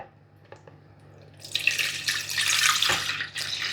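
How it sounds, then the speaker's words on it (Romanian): Vinegar at 9 percent strength poured into a bowl for pickling bell peppers, a steady splashing liquid stream starting after a quiet moment and running close and fairly loud to the end. "Avem nevoie de 600 de ml de oțet de 9 grade neapărat, pe care îl voi pune într-un bol."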